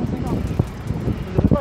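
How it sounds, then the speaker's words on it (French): Strong headwind buffets the microphone of a cyclist riding a long road route in the Landes, a rough low rumble with gusts while riders talk. "il y a du vent de ouf"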